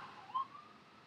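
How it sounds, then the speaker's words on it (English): A distant emergency siren wails faintly outside, a thin tone that swells briefly and then fades as it passes, heard alone in an otherwise quiet room. "Sirens."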